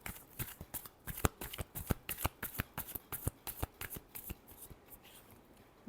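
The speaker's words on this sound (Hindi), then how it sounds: "Last shuffle." Tarot cards being shuffled, a rapid run of crisp riffling snaps close up with a brief pause midway, no voices.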